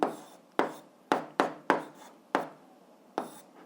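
Pen or chalk strokes mark down an algebra answer, seven or so distinct scratchy taps and short scrapes in an uneven rhythm, close and clear with no talking.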